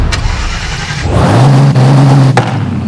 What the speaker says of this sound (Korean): 엔진 소리가 정말로 독특하지 않습니까?